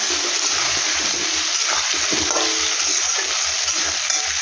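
Curry stirred in a pan after chili powder and turmeric go in, a steady scraping and sizzling texture running throughout with soft rhythmic stirring knocks, close and fairly loud with no talk.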